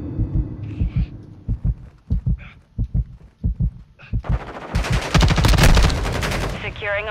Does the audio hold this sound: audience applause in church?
no